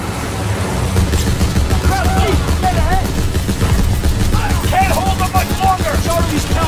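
Mounted machine gun fire in the WWII shooter Call of Duty: WWII, a dense, continuous rattle of battle noise with shouted voices over it, loud and close throughout.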